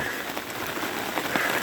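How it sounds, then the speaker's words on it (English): Steady rain patters on the ground along the Ozark Highlands Trail, a close, even hiss of drops with no voices, continuous for the whole short stretch. "It's cooled off since it started raining."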